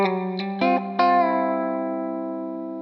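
Electric guitar plays a country lick with a pre-bend from the third to the fourth, two quick struck notes then a resolving chord ringing out and slowly fading with effects and reverb.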